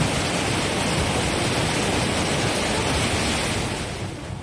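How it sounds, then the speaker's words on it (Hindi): Swollen river in Dharchula, Pithoragarh, after a cloudburst, a loud, dense, unbroken roar of rushing water, close and overwhelming, easing slightly at the very end, with no voices. "पहली तस्वीर में नदी में पानी का डराने वाला शोर है।"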